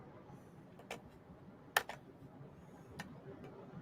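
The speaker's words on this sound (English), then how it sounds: "I keep clicking this damn keyboard and it's so freaking loud" A few sparse, sharp keyboard clicks sound close up over a quiet background, with one louder key press in the middle.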